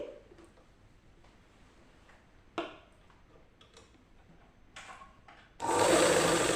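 A sewing machine stitches across the waist seam of a long frock being shortened. Quiet ticks and clicks come first, then a loud run of stitching about a second long at the end.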